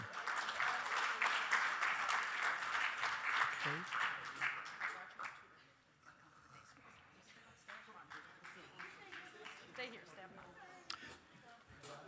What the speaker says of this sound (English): let's have a nice round of applause for all of these important people